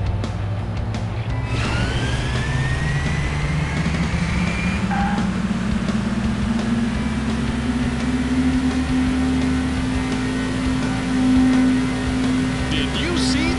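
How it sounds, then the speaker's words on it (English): Car engines in a City Racing 3D mobile street race rev and accelerate, one engine note climbing steadily in pitch over a constant motor drone, with brief higher whooshes of passing cars. "Gentlemen, start your engines."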